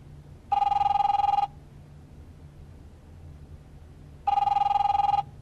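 A telephone ringing in The Wolf Among Us on PC: two identical electronic ring bursts, each about a second long, separated by a few seconds of low hum, with no speech.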